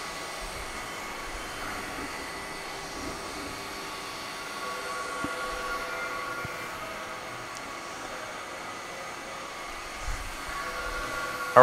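A Haas VF-3 CNC vertical machining center with a 7,500 RPM spindle runs its head, giving a steady, moderately quiet mechanical hum and whine with faint clicks, continuous and unaccompanied by speech.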